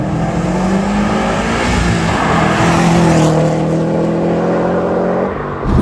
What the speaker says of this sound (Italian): EJ25, quindi 2005, 4 cilindri, boxer turbo, nasceva con 265 cavalli